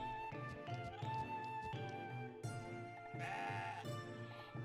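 Goat bleating in the CrossCode video game, a series of short, wavering nasal cries repeating in quick succession over several seconds, close and clear with no talk.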